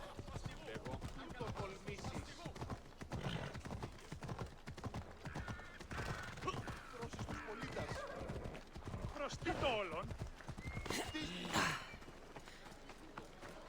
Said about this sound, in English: Why is the horse moving so slow?